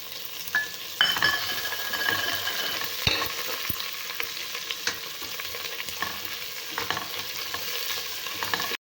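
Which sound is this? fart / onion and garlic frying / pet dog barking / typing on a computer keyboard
onion and garlic frying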